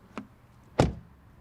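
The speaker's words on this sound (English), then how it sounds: "Then door closing sound." The door of an Audi A3 sedan shuts with one solid thud, preceded by a faint click and heard close up in a quiet space.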